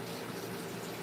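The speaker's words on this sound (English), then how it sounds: "I'm just going to rinse it." Running water rinses a cup at a kitchen sink, a steady, close hiss of flowing liquid lasting the whole moment with no voices over it.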